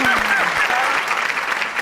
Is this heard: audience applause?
yes